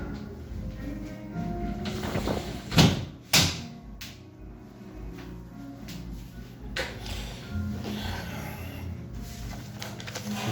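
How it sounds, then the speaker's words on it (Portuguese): A door pushed closed indoors to shut out noise, with scraping and a couple of loud knocks and thumps clustered early, then quieter handling sounds and a later knock over a steady background hum. "Deixa eu só tentar fechar uma porta aqui para ver se diminui esse barulho aqui."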